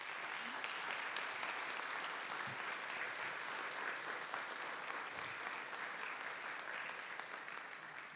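Audience at a political forum panel on women's policies gives sustained applause, a faint, even, continuous patter of many hands heard from a distance, with no voices on top.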